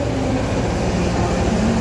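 Diesel locomotive CC206-1341 hauling the Sancaka passenger train in Indonesia, a steady, loud, close rumble with a constant low drone and no voices.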